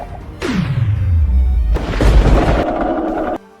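An explosion in a Roblox Brookhaven war game bursts with a deep falling boom and a rumbling roar, then a second crashing blast follows before it cuts off abruptly.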